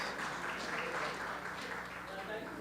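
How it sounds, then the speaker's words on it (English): Crowd applause at an awards ceremony, a dense wash of clapping from an audience, running steadily under a speaking voice. "Oh, you can guys give him applause."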